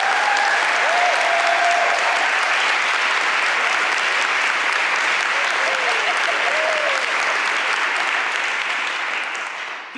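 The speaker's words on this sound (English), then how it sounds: "Please applaud Eric Henderson." Dense, steady applause from an audience at a panel event fills the whole stretch, loud and continuous, with a faint whoop or two, then tapering slightly at the end.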